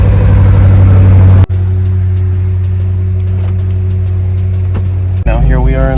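BMW M5 engine running while still cold, a steady deep idle hum held close for several seconds, with short bursts of other sound cutting in at the start and end.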